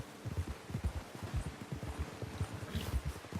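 Horse hooves clip-clopping in Red Dead Redemption 2: a steady run of soft, low thuds in a quick trotting rhythm, moderately close over light outdoor ambience, with no voices.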